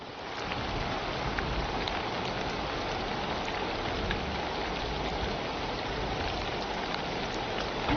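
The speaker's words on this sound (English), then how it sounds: "This rain sounds like it's got hail in it." Rain in the video game Dawn of Defiance pours in a dense, constant hiss, with scattered sharper ticks like hail striking surfaces, steady and unbroken throughout.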